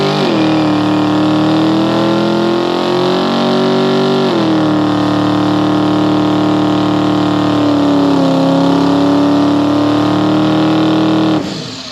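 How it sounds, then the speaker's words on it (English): A Toyota MKIV Supra with a 1600 HP engine does a tire burnout. The engine roars loud and steady for about twelve seconds with a sustained high drone that dips slightly as the revs shift, and no talking is heard. "Those are not gender reveal burnouts."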